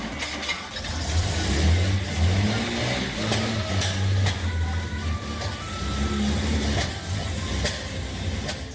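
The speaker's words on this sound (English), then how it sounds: "we're trying to start the engine" A classic E-Type Jaguar engine, left idle in a garage for ten years, cranks and runs in uneven low, rumbling bursts that rise and fall close by, with scattered clanks and no voices.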